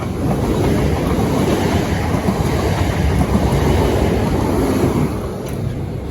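A Southeastern Class 465 electric train passing by on the line near Wandsworth Road and Clapham High Street, a loud, steady rumble and rattle of wheels on track lasting several seconds, close and continuous with no voices.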